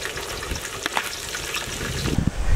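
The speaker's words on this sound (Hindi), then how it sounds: "ऑयल गर्म होते ही पहले हम लोग इसमें गार्लिक डालेंगे" Chopped garlic sizzles in hot oil, a steady crackling fry close by with a few louder spits and pops near the end.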